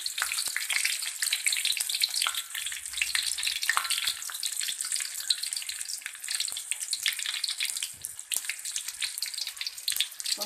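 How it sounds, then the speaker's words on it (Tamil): Mustard seeds, dried red chillies and thin green chillies frying in hot oil, a dense continuous crackling sizzle with scattered pops, close and steady throughout with no talking. "கடுகும், காஞ்ச மிளகாய், அப்புறம் வந்து ஊசி மிளகாய் இதெல்லாம் நல்லா பொரிட்டோம்."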